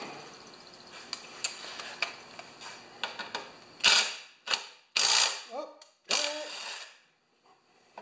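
Metal-on-metal clicks and clanks of a wrench loosening 8mm carburetor nuts on a Honda EB2200X generator, faint ticking at first, then several louder, sharper bursts of ratcheting and scraping close by.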